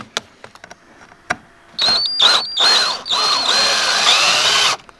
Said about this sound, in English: Do you have a drill? Self-tap.